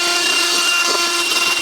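An air blower blasting dust off a wooden Mandalorian helmet, a loud continuous whooshing hiss with a steady whine held close throughout.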